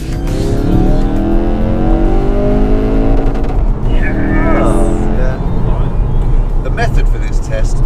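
Hot hatch engine revving hard through the gears inside a concrete and rock road tunnel, loud and close with rising pitch sweeps, echoing off the walls, a brief pause, then more revving.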